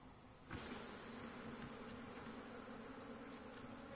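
A swarm of honey bees hums in a continuous, even buzz around a hive in the Uttarakhand hills, fairly quiet and steady with no talking.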